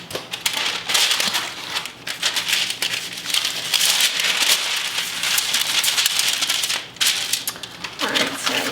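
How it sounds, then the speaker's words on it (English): Parchment paper is torn and pressed onto a metal cookie sheet in a kitchen, giving close, crisp crackling and crinkling bursts that run almost continuously, with a couple of short pauses. "I have a cookie sheet here that I'm gonna line with parchment paper"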